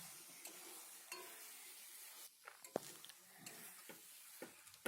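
Fried potatoes being stirred into a spice masala in a pan for an egg curry, with quiet sizzling and intermittent scrapes and taps of a spatula against the pan.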